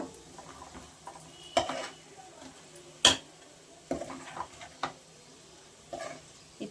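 Stuffed brinjal is stirred in a pan with garlic chili powder and salt, with intermittent metallic scrapes and clinks of a utensil against the pan over a faint sizzle.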